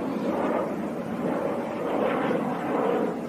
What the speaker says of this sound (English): With the airplanes flying up above